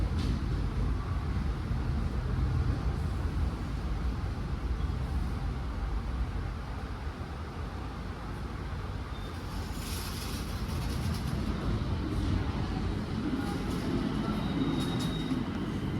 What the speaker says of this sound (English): Soon enough, our train arrives and we can get on inside.